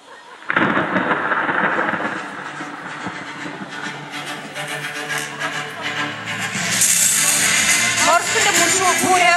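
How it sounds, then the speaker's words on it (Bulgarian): A violent storm at sea: deep rolling thunder and heavy rain in a loud, continuous wash that swells and grows harsher toward the end. "Морската буря бушуваше дни наред."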